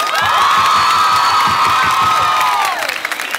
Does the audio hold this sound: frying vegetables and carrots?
no